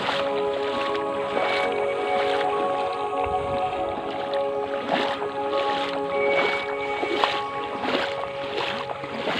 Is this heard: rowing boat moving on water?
yes